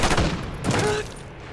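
Gunfire in the Call of Duty: Black Ops 6 video game sounds as a loud, dense burst of rapid shots blurring into a roaring volley before it trails off, with no voices over it.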